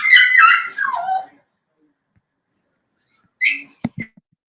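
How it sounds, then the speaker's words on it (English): Small dog whimpering in high, wavering whines that fade out, then after a pause a short yip and a couple of quick sharp barks, close and clear with no other sound. "it's my little dog"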